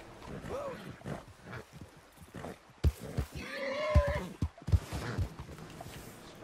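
Horses in the Red Dead Redemption 2 video game give a couple of short, high whinnies amid hoof and game noise, with a player talking over much of it.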